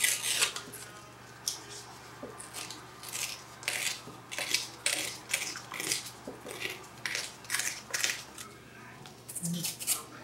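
Paper being torn away along a stitch line on a Featherweight sewing machine case handle, heard as a series of short, close, crisp ripping strokes in a steady rhythm.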